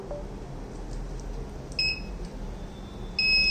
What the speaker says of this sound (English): So initially buzzer on off 2 times, and then it starts moving.